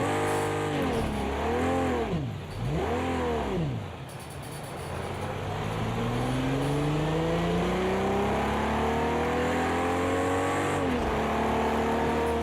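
A Jaguar E-Type engine drives in the racing game Project Cars 2. Its revs climb and fall in quick swoops, then it rises through a long, steady acceleration that dips briefly near the end.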